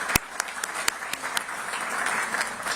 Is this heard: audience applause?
yes